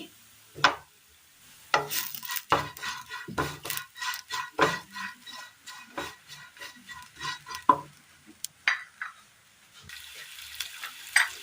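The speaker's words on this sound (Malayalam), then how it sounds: "നന്നായി ഒന്ന് മിക്സ് ചെയ്തെടുക്കാം." Chili, coriander and turmeric powder stirred into oil in a pan, heard as a series of close scraping and tapping spoon strokes over a soft sizzle, irregular and alone.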